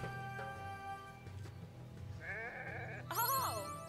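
Sheep in the video game Renowned Explorers bleat in a few short, wavering cries, one after another over a low background drone, with no talking.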